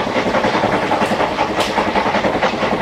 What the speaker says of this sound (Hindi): तो अभी मस्त गाड़ी चल रही है भाई